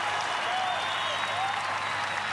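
A crowd at the Race of Champions keeps up steady, dense applause, with a commentator's voice faintly underneath.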